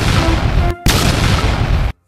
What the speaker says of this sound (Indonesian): Di atasnya ada tembaknya teman-teman. Dia bisa menembak musuh-musuhnya